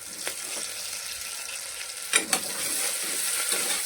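A tomato curry with onion sizzles steadily in a pan as it is stirred, a continuous close frying hiss with a couple of sharp scraping clatters of the spoon partway through.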